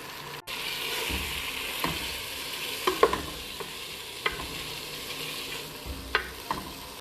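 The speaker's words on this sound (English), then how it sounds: "Saute that while I'm adding both the dals, and I'm going to saute the dal really well too" Dal and tomatoes sauteing in a pot, a soft continuous sizzle with occasional spoon scrapes and knocks against the pot, fairly close and steady, no talking.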